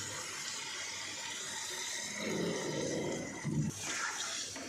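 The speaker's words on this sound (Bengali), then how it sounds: "তো এখন আমি ঝোল দিয়ে দেব।" Broth is poured into a simmering Bengali aloo tomato curry, giving a soft, steady liquid rush that swells and bubbles briefly toward the end.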